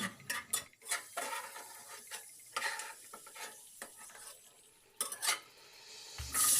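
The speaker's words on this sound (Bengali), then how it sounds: "কিশমিশগুলো নেড়ে চেড়ে ভেজে তুলে নিচ্ছি" Raisins fry in a little ghee or oil while a spatula stirs them, irregular scraping and clinking strokes over a light sizzle, close and moderately loud.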